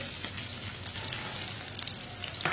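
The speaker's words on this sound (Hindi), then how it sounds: "1 प्याली बारीक कटा हुआ प्याज डालेंगे।" Finely chopped onion frying with chicken in a pan, a steady close sizzle running throughout, with no voices heard.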